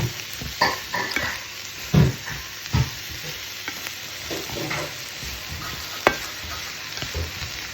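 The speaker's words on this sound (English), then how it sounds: "you can hear the sound of this bubble or the butter" Butter bubbles and sizzles steadily in a pan as chanterelle mushrooms fry, with a few louder pops and scrapes of stirring scattered throughout.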